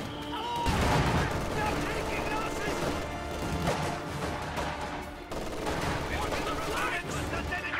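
Sniper shots and MG42 machine-gun bursts crackle and thud in a video game battle, dense overlapping gunfire that runs continuously beneath an excited commentator's voice.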